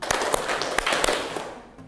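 A classroom of pupils claps four sharp beats in a patterned rhythm, the claps close and fairly loud over a faint room hum.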